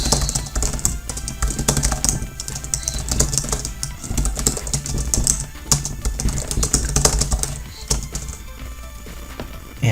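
Rapid, continuous clatter of keys on a computer keyboard during a timed typing test, dense overlapping clicks close up and loud, with no talking.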